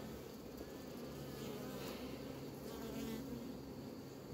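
Honey bees buzz steadily around hive frames while a beekeeper prepares a split with queen-rearing frames, a dense, continuous drone of many bees, fairly close and even throughout.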